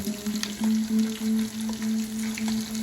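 Pumpkin slices fry in hot oil with a steady close sizzle and crackling pops, a low electrical hum running beneath throughout.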